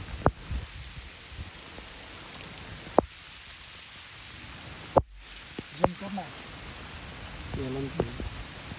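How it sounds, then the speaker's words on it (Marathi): Steady rain hisses in the background outdoors in Konkan during crab hunting, broken by occasional sharp drips or knocks and faint voices. "पाऊस सुद्धा आलेला आहे"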